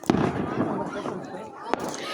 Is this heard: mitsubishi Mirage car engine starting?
no